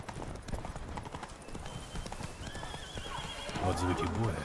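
In The Witcher 3: Blood and Wine, hooves clip-clop in a steady galloping rhythm while a horse whinnies, with a voice talking over it and music swelling near the end.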